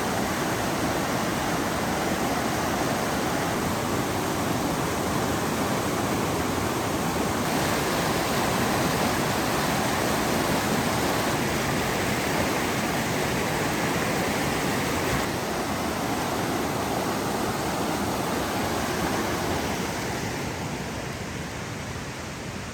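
Steady, broadband rush of the Zigzag River flowing past the north banks beside Tollgate Campground, a continuous loud water roar with no pauses and no voices throughout.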